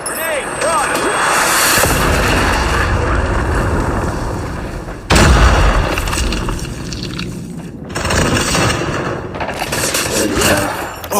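Heavy explosions and blasts boom in a Call of Duty Mobile hardpoint match, loud and close with a sharp burst near the middle, mixed with game noise and a voice talking.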